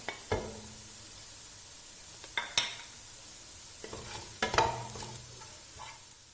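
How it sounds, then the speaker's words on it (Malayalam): Ground coriander and fennel powder being stirred in a hot pan while cooking pork roast, with a few sharp scraping strokes of a spoon against the metal over a soft, steady sizzle, and quiet pauses between strokes. "ആഡ് ചെയ്ത് നല്ലപോലെ പച്ചമണം വരുന്ന വരെ വഴറ്റി കൊടുക്കുക."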